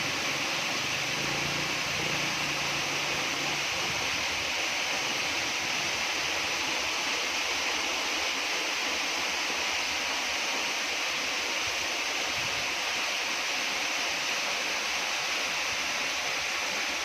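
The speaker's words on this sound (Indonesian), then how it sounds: "kita langsung dengarkan saja gimana suaranya air terjun Sedinding" Steady broadband roar of the Sedinding waterfall at Jenawi, continuous and loud with no pauses, a dense wash of falling water heard close up with no voices.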